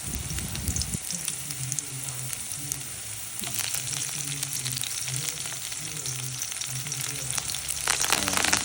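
Ginger and chili sauté in a pan with garlic for a mushroom dish, giving a steady close sizzle and frying crackle with some stirring. No voices.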